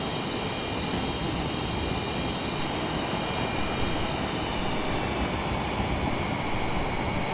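F/A-18 Super Hornet jet engine taxiing in Microsoft Flight Simulator, a loud, constant broadband roar with a steady whine, unbroken and close throughout.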